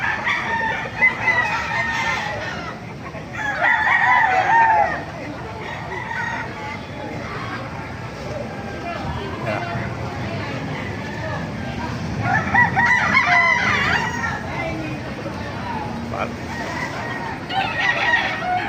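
Several gamecocks crow repeatedly at a market in Baliuag, some near and some farther off, over steady outdoor background noise after rain.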